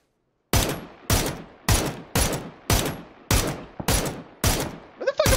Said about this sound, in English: Shots going!